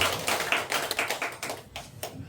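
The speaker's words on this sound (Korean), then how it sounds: "박수 한번 주십시오" A church congregation claps briefly in scattered, uneven bursts of hand claps, close and fairly loud, trailing off within a couple of seconds.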